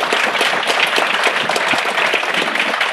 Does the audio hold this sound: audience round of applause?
yes